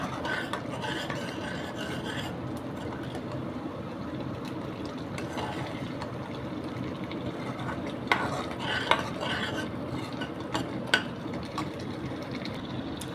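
Thick beetroot and tomato chutney bubbling in a pan, with a continuous dense rasping and spattering and a few louder pops near the end, heard up close without speech.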